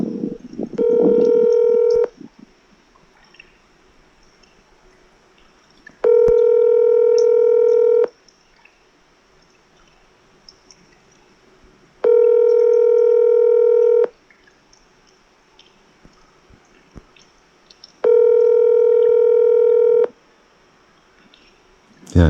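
An outgoing telephone call rings unanswered: four evenly spaced ringback tones, each about two seconds long and separated by roughly four seconds of near silence, loud and clear.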